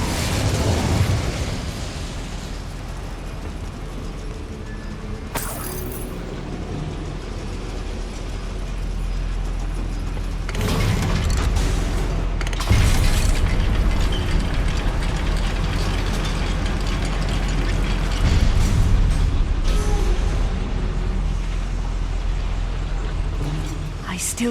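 Incendio, a fire spell in Hogwarts Legacy, is cast amid a goblin mine's clanking machinery, giving several loud whooshing, fiery bursts over a dense rumble of grinding mechanisms. Brief speech is heard.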